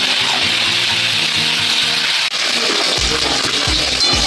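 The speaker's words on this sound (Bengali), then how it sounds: "আলুগুলো ভাজি তাহলে।" Potatoes frying in oil with cumin seeds and green chillies, a constant loud crackling sizzle with some stirring and scraping toward the end.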